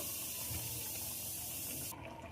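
Hot water pours into a pot of cooked mung lentils, a steady close rushing gush that stops abruptly near the end.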